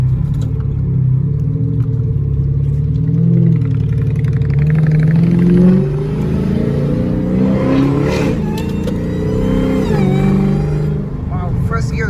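A Dodge Hellcat-powered car revving hard and accelerating in first gear, a loud, continuous engine roar rising and falling in pitch over twelve seconds, with voices talking over it.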